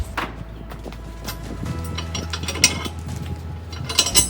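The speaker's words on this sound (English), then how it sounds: "Just taking off both of these nuts on this these bolts here." Nuts are loosened from bolts while a trailer hitch is fitted, giving quick clicking ratchet strokes and small metallic clanks in short uneven bursts, close by and fairly quiet.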